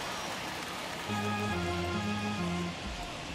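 Steady rain hiss in a baseball game of MLB The Show 21, a broad wash continuing throughout, with a faint tonal music or crowd layer rising in the middle.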